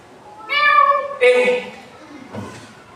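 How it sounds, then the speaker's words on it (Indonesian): Cat meowing close by, two clear drawn-out meows in quick succession followed by a fainter third sound, with no other voices. "Itu kan suara kucing."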